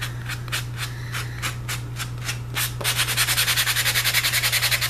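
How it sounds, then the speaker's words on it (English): Sandpaper rubbed by hand over the sharp edges of a handmade craft piece: steady rhythmic back-and-forth strokes, slower at first and then faster and louder, over a constant low hum. "So I'm going to give it a good sand all over."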